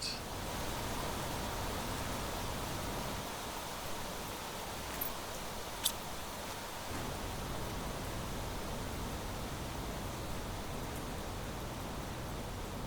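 Rain in the video game Planet Crafter hisses as a constant, fairly faint wash of noise, with a few tiny clicks along the way.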